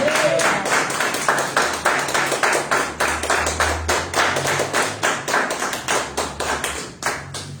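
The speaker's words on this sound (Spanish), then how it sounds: "denle un aplauso a Jesucristo por Elena" A church congregation at a ministry's thirteenth-anniversary service claps in a steady, brisk rhythm, many hands striking together in repeated pulses over a low, sustained hum.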